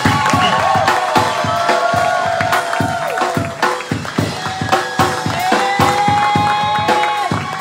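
A church crowd cheers and acclaims to welcome a pastor, with loud whoops, shouts and scattered clapping rising and falling in bursts across a lively hall.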